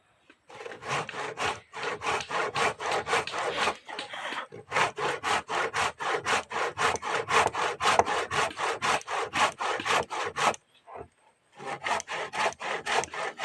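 A hand saw cuts through wood in steady back-and-forth strokes, loud and close, pausing briefly twice before resuming its rasping rhythm.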